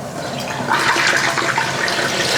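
Loud, steady bubbling and crackling hiss of hot oil as a Cajun turkey is lowered into a fryer, surging a little louder partway through and continuing without pause.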